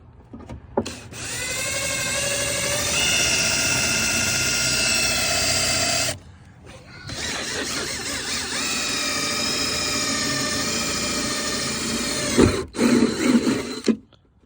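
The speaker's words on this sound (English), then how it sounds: "Should drill through the other way." A power drill whirs loudly in two long, sustained runs separated by a short pause, ending with a few clunks and rattles, drilling for a rear wing install on a 2020 Camaro LT.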